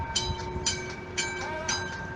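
A train at a suburban railway station in Escada, a neighbourhood of Salvador, gives a steady rumbling hum with a sustained tonal whine and periodic rhythmic clacks.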